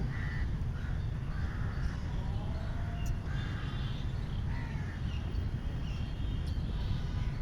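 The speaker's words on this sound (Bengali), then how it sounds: "পাশে একটা কাকও আসছে।" A crow at Ramna Park in Dhaka giving repeated harsh caws at a moderate distance, several calls spread over about seven seconds above a constant low outdoor rumble.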